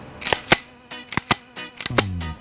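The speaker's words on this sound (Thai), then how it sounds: "แล้วเดี๋ยวมาฟังทางด้านของเสียงการชักปืนกันดูนะครับ" A Taurus 99 9mm pistol has its slide racked several times up close: sharp metallic clacks come in quick pairs and small groups, each a short snap with a brief ring, and no talking.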